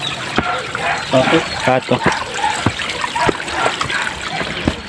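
Water trickles and splashes steadily beside a slippery mountain trail in Bauko, Mountain Province, while people talk casually nearby and a few sharp clicks punctuate the flow.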